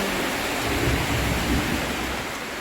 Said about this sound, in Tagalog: You hear the rain. It's very strong. We have like a thunder.